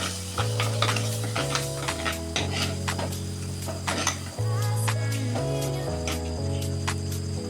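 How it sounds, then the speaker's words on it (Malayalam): Chilli powder and Kashmiri chilli powder are stirred into a Kerala fish curry masala in a pan, with a low sizzle and repeated light clinks of the spoon under steady background music. "2 ടീസ്പൂണ് സാദാ മുളകും പൊടി, 1 teaspoon Kashmiri chilli powder, 2 spoon. നന്നായി ഇളക്കി കൊടുക്കുക"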